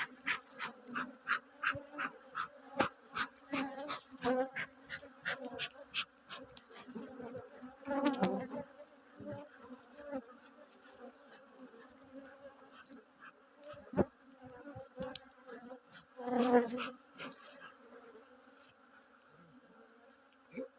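Bees buzz around an open beehive at an apiary, close individual drones weaving in and out with swells of louder buzzing, over a quiet outdoor background.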